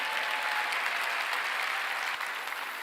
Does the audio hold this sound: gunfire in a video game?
no